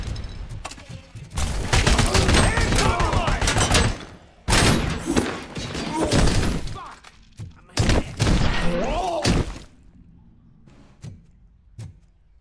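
Rapid bursts of video game gunfire in Robocop: Rogue City crackle and thud in dense volleys, pausing briefly between flurries, then trailing off into a few scattered shots and quiet.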